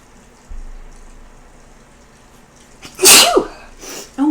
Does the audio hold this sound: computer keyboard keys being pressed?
no